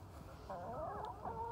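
Backyard garden chickens clucking nearby, a short burst of soft, warbling clucks and murmurs from a hen, fairly quiet and close.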